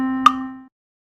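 A single plucked or struck note over a steady held pitch that lasts about two beats and then stops, demonstrating a half note in a children's music lesson; clear, close and without speech.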